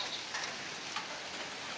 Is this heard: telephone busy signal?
no